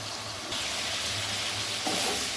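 Spiced catla fish curry with tomato, potato and cauliflower sizzles and fries in a pan while being stirred, a close, continuous hiss with a brief burst of scraping toward the end.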